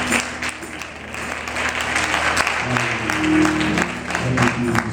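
Church congregation clapping hands in praise during a worship service, a steady dense wash of applause running throughout, loud and close, with faint voices mixed underneath.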